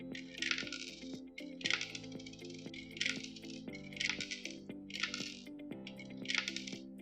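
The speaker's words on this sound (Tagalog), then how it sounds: "I will click on insert coin at hulog akong barya." Coins drop one after another into a Piso WiFi vending machine, a series of about six sharp metallic clinks at a steady pace over a constant electronic hum and tones.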